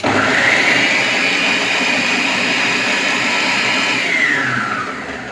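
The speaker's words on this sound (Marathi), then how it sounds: "तर फ्रेंड्स, अशा प्रकारे मी सगळं पीनट बटर वाटून घेत आहे।" A mixer grinder whirs loudly and steadily as it grinds peanuts into peanut butter in a large jar, the motor holding one high whine for about four seconds before spinning down.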